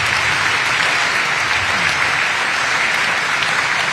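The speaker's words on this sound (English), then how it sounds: "let us give you a big round of applause" A crowd at an outdoor GOP barbecue in Michigan gives the volunteers a big round of applause: dense, continuous clapping at a steady level with no talk over it.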